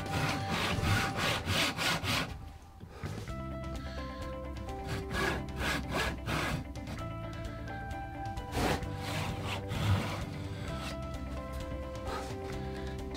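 A saw cuts through wood for a guitar cover plate, with steady, rhythmic rasping strokes that continue throughout, close by and with no talking.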